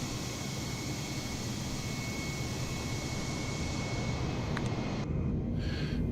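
An Airbus A320neo jet roars steadily through its takeoff in Microsoft Flight Simulator 2020, a dense, loud, continuous engine rumble and hiss with a brief faint click near the end.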